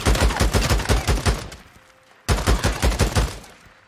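Rapid bursts of gunfire from the zombie-survival video game Days Gone, loud and close, in a dense volley that stops briefly and then resumes with another string of shots.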